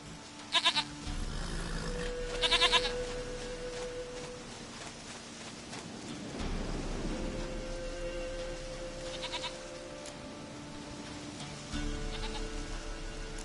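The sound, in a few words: goat bleating in video game The Witcher 3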